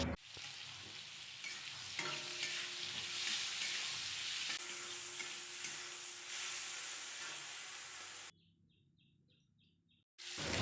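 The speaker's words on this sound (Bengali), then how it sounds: "শশা আর লাউটাকে একসাথেই ভেজে নেব হলুদ লবণ দিয়ে" Cucumber and bottle gourd frying together with turmeric and salt in a pan, a dense continuous sizzle with stirring, faint birds in the background, then a sudden drop to near silence before the sizzle returns briefly.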